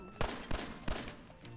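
Three evenly spaced gunshots from a weapon in Fallout 4, sharp and close, fired in a quick rhythm about a third of a second apart.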